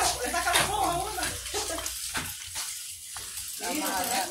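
Water poured into hot sofrito in a pan for green beans with eggs, giving a bright hissing sizzle and splashing wash while voices talk over it.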